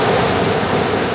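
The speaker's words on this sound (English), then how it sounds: "the camera audio was overpowered by the noise of the sea and waves" Sea waves crash on the shore in a loud, continuous roar of broadband surf noise, close and steady with no voices.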